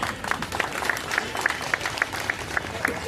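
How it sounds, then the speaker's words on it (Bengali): An audience at a human rights day event claps in a crisp, rapid burst. The claps fall in a regular rhythm and rise clearly above a soft murmur of voices. "জোরে করতালি দিন"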